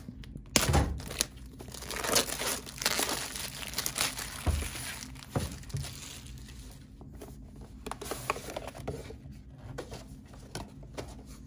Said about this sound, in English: Now let's get it out of the plastic and take a look at this thing.